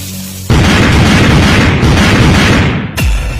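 Firecrackers going off in a Hindi-dubbed animated comedy cartoon: a loud, sudden blast that becomes a sustained booming roar, then a second sharp burst near the end.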